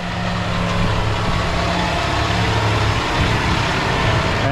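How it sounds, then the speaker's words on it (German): A Fendt 933 tractor hitched to a Lemken Karat 10 cultivator runs with a steady, smooth engine hum, loud and close but even, with low tonal droning and no talk. "wie leise dieser Trecker ist"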